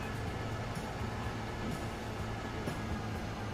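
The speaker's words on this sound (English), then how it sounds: "I'm mildly amused by the sound of this electric loco." Electric locomotive running in Transport Fever 2 among Swiss Alps scenery, a steady low rumbling hum with rail rolling noise and faint mechanical ticks, continuous and fairly close, no talking.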